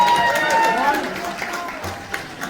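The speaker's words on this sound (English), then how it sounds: "Let's give her a round of applause" Audience applause and crowd noise at a Khmer community event in Long Beach, California, a steady wash of clapping that gradually thins out over a couple of seconds, with some voices mixed in.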